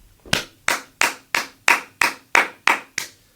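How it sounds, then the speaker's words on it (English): Nine crisp, evenly spaced hand claps sound close and dry, a lone person clapping steadily at about three per second on a podcast set, with no crowd joining in. "Let's give another round of applause for Candace Owens, the Unphazed Person of the Year"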